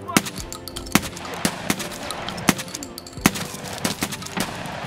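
Shotgun blasts in Escape from Tarkov boom out sharp and loud at irregular intervals, about eight heavy shots in quick succession amid game ambience.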